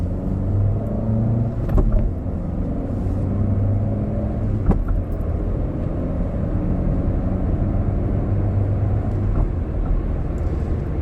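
Cabin sound of a Peugeot 106 car accelerating, with a steady low engine drone and road rumble that holds loud throughout and is broken by brief shifts.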